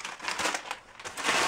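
Packing paper from a Book Outlet book order box being crumpled and rustled close by, a steady broadband crinkling that swells and fades in bursts over a second and a half, with no voices.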